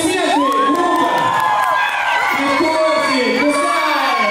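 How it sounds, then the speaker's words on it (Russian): A crowd at a street-style dance event cheers loudly and continuously, with shouts and whoops layered over a dense roar and no pause throughout. "Аплодисменты, группа!"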